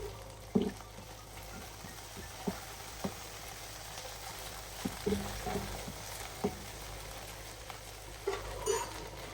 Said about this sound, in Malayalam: നമുക്ക് കറിവേപ്പില ഇടും.